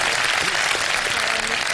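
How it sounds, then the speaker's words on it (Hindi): A brief burst of dense studio audience applause for Arfa Karim on a Ramadan iftar television show, steady and full for the whole moment with a faint voice beneath. "भरपूर तालियां बजाइए अरफा करीम के लिए।"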